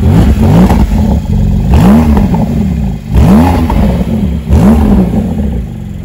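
A tuned Porsche 911 Turbo S of about 1,000 horsepower on Pilot Alpine tyres accelerates hard across a cold surface, its engine roaring loud and close and rising in pitch in three or four surges as it shifts up through the gears.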